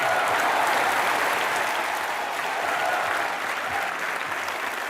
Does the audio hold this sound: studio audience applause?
yes